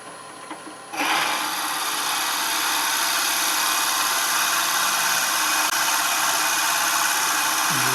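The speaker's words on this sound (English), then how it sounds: "And we'll just drill down until we're at 3 3/4." A drill press whirs up after a brief pause and bites steadily into wood, a loud continuous grinding rasp close by.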